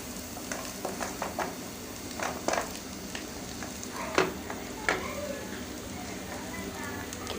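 Onions and green chilies frying in coconut oil in a pan for a Kerala mutton roast, a steady close sizzle broken by several scraping stirs, with a voice talking over it.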